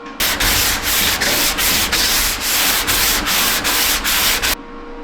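A cheap power sander grinds steadily against dried Bondo body filler on a Ford truck, a loud continuous rasp with a faint rhythmic pulse, then it stops abruptly.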